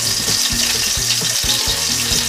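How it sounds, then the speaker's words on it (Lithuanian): A burger patty sizzles loudly in a hot pan, a dense steady crackle of frying punctuated by a few periodic low thumps, with no voices. "Dabar, kol kepa kita pusė kotleto, galima paskrūdinti bandeles."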